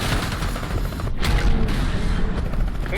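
In-game explosion in Call of Duty Black Ops 6, a loud boom bursting out around the middle amid ongoing rumbling gunfire-like noise and mechanical clatter, no talking.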